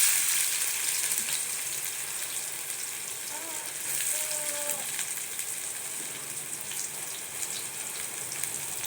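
Curry leaves and onion frying in hot oil for a Tamil ivy gourd gravy, a steady close sizzle and crackle running throughout, with faint brief tonal sounds in the background.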